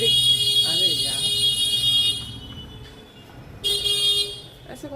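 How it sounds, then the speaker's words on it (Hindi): A car horn blares in a long, loud blast, stops, then sounds again in a second burst, with a voice speaking faintly underneath. "ऐसे कौन हॉर्न बजाता है?"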